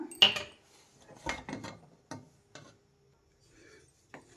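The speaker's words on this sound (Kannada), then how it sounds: "ಲಿಡ್ ಓಪನ್ ಮಾಡೋಣ" A pressure cooker lid is opened after cooking aloo peas rice bath, giving a few sharp metallic clanks and rubbing scrapes close by, then quieter fumbling, with no talking.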